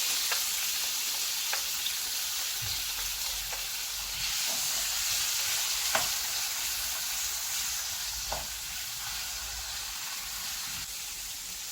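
Chopped onion sautéing in a pan for spaghetti with mussels, a steady close sizzle with occasional light clicks from stirring.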